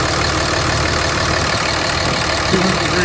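A lifted 5.9L Cummins diesel engine idles steadily after a cold start, a loud, continuous low rumble with an even rhythm and no voices over it.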